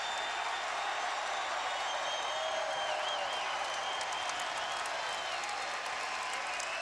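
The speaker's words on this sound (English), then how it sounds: "A deafening crowd here in Chicago" A deafening crowd roars and applauds continuously at a men's volleyball national championship match between Loyola and Stanford in Chicago, a dense, loud wash of cheering and clapping with no pauses.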